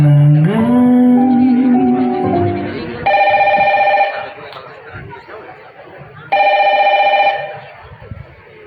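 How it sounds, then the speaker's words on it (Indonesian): A telephone rings unanswered, two loud bursts of bright electronic ringing separated by a pause, preceded by a rising musical tone, with faint voices in the background. "Siapa sih yang nelpon heboh bener?"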